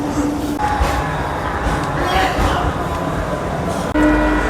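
A Barasat local train rumbles and rolls into the station steadily with broad mechanical noise, a brief horn-like tone sounding at the start and again near the end.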